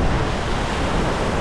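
A waterfall in a canyon near Pokhara, with steady, loud, broadband rushing water close by, unbroken and without any voices.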